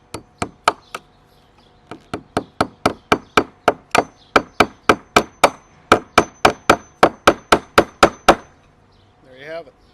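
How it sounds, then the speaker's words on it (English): Steady, sharp hammer blows drive a stake into the ground for a garden watering system about three times a second, each a crisp close knock, ending with a brief muffled voice. "now you're going to want to hammer it in"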